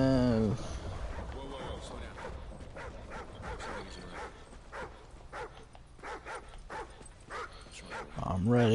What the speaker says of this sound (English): What is this dog up to?